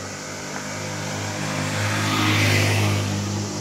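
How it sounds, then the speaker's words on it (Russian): A car idles while rolling downhill on a walking descent from Alanya fortress, its steady low engine hum swelling slightly toward the middle, close and continuous, with no talk. "Вот на холостом ходу вниз поехал."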